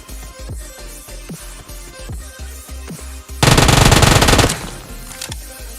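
Rapid automatic gunfire in a battle royale video game, a burst of shots with steady rhythm that swells into a loud, dense volley for about a second before dropping back to regular shots.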